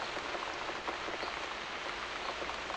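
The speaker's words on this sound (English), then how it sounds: "Looks like we got the rain back." Rain pours in the horror video game The Cat Lady, a dense, steady patter of drops hitting surfaces that fills the whole stretch without pause.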